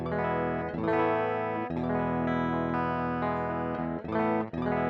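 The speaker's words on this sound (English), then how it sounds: "a clean sound of the guitar going straight into Logic." An electric guitar plugged directly into Logic plays sustained chords with a clean, dry tone, strummed a few times and left to ring, loud and up close.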